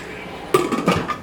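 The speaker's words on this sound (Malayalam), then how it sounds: "ഈ കുക്കർ മൂടി വയ്ക്കാം." A pressure cooker lid is set and closed on a pot of horse gram curry in a home kitchen: a sharp metallic clank, then a couple of softer knocks and rattles as it seats, close and fairly loud.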